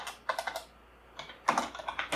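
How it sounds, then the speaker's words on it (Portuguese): Quick keystrokes on a computer keyboard come in two close bursts of several taps each, separated by a short pause, crisp and fairly quiet with no talking. "Vou digitar aqui checkout"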